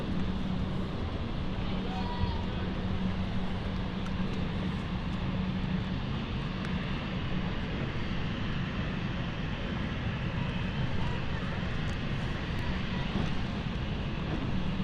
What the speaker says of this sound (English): Love the sound of turboprops in the morning.